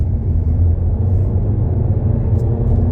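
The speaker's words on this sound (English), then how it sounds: "setting off, giving a little bit of gas" A 2022 Honda Civic Sport Hatchback in normal mode pulling away from a start under light throttle, a steady low engine and road rumble heard from inside the cabin.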